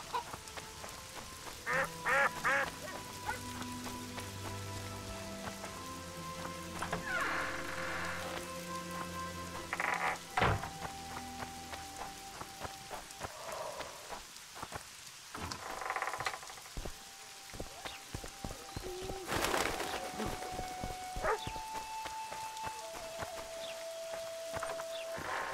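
Steady rain falls across a scene in the fantasy video game The Witcher 2: Assassins of Kings, a continuous wash of droplets with scattered splashes and chirping game effects layered over it, plus occasional sharp impacts.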